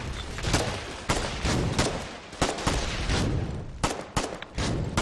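Rifle gunfire in the Foxhole war game, a dense irregular volley of sharp cracks laying down suppressing fire on an enemy gun nest, with no voices over it.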